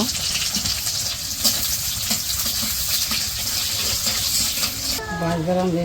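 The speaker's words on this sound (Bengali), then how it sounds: "এখন হচ্ছে পেঁয়াজ দিতেছে, পেঁয়াজগুলো ভাইজে নিব।" Onions sizzle and fry in hot oil in a karahi in a village kitchen, a steady loud hissing crackle close by, with a voice briefly heard near the end.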